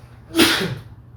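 A single sharp, breathy sneeze, loud and close, bursting out then trailing off quickly.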